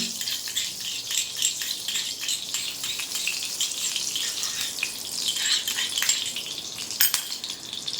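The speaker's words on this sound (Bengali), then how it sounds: "এবারে আমি কড়াইয়ের মধ্যে বাকি ঘিটা ঢেলে দিলাম" Ghee heating in a kadai after paneer has been fried, giving a steady, moderately loud sizzle with faint crackles and a few brief clinks, with no talking.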